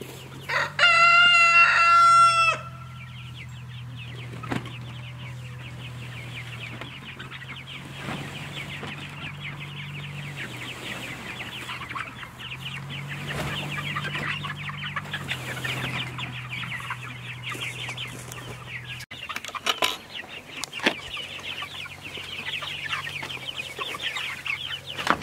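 A rooster crows loudly at the start, then heritage meat-breed chickens cluck and murmur steadily nearby, with scattered sharp sounds.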